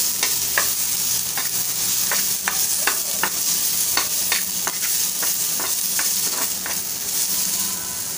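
Masala for Malvani egg curry sautéed in a pan, with a spatula scraping and stirring in steady, repeated strokes over a continuous close sizzle.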